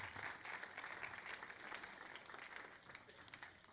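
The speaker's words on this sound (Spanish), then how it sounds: "Dele un aplauso al Señor" A church congregation applauding, dense continuous clapping at moderate distance that slowly thins toward the end, with voices mixed in.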